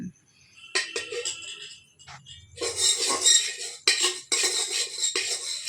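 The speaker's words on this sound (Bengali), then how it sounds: "বাসন মাজছ মাজো" A child washing dishes makes bursts of clattering utensils and clinking pots, scrubbing in short uneven clusters with brief pauses between them, close and fairly loud.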